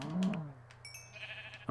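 Minecraft cows lowing in the game, a short bleat-like moo up close followed by a faint second call, with soft background ambience and a quick thump at the end.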